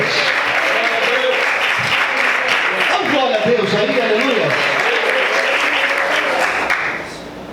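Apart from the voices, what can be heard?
congregation applauding in church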